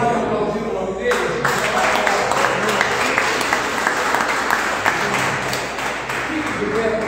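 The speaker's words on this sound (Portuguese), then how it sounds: "Pode aplaudir o nome dele?" A congregation in a Portuguese-speaking church applauds, dense steady clapping filling the room for several seconds after a brief opening with a voice heard over it.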